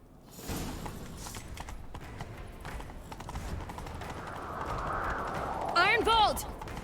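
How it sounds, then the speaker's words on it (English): Galloping horse hooves in The Witcher 3 video game, a quick steady clip-clop rhythm under ambient game sound and speech, with a brief whinny-like tonal sound near the end. "Grab a horse, we'll chase him down."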